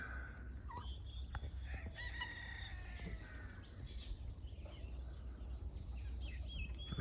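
Chickens out back clucking and a rooster crowing at a distance, overlapping calls over a constant low engine-like rumble, no voices.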